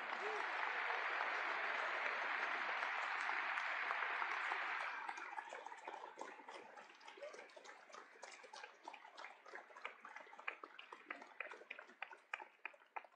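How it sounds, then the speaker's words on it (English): An audience applauds students for taking part in democracy, a dense burst of clapping that thins into scattered claps and fades out. "I ask everyone here to join me in applauding you for participating"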